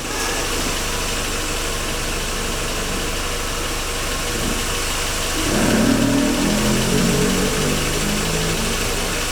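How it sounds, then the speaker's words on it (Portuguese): A car engine idles steadily nearby with a constant low hum, a slight rise in rumble partway through, and no voices over it. "O carro está atrás de mim, funcionando."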